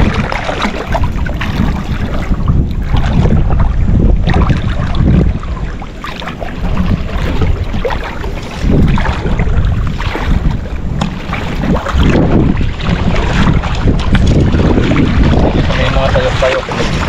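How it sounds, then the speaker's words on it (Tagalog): Strong wind roars across the water and buffets the microphone on a small boat during a crab-hunting trip on choppy water, a loud, gusting rumble that never lets up, with scattered voices under it. "Malakas ang hangin, guys."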